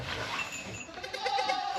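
A large doe goat bleats while giving birth on a farm, a strained, hoarse cry that runs through the whole short stretch, close and fairly loud with no clear talk over it.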